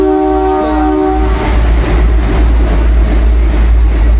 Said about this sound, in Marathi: ह्या ट्रेनने पण आपण जाऊ शकतो.